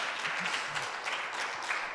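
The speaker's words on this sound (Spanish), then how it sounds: "Dale un aplauso fuerte allí al Dios de los cielos." Applause from a church congregation during a Spanish-language sermon: a dense, steady wash of many hands clapping together, filling the whole short stretch without any talking on top.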